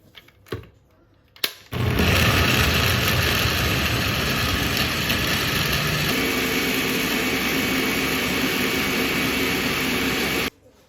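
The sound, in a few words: blender blending vegetables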